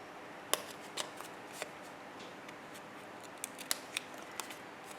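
Scissors snip through paper in a journal, a series of quiet, crisp, irregular clicks and cuts close by in an otherwise hushed room.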